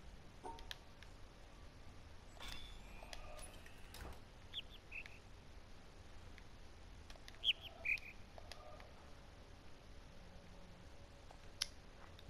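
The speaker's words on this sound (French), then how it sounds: "Je viens de comprendre d'où le bruitage d'oiseaux vient en fait. Tout est artificiel" Artificial bird chirps from the video game The Witness, sparse and faint: a few short high tweets and squawks scattered over a soft ambient hiss, with occasional light clicks.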